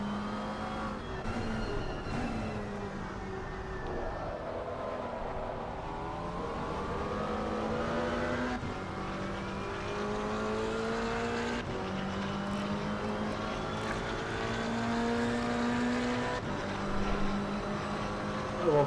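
A McLaren 570S GT4 race car in Assetto Corsa Competizione at Circuit of the Americas, its engine droning and rising through the gears in long sweeps, shifting pitch as the car accelerates, with a steady in-car roar throughout.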